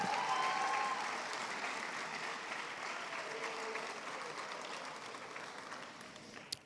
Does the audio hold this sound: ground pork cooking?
no